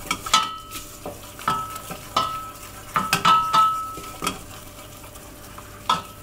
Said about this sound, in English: Give it a really good stir